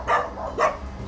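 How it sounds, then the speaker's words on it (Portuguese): Dogs bark at night on a rural farm in Brazil, two distinct barks about half a second apart, fairly close and clear over a low background rumble. "Estão latindo."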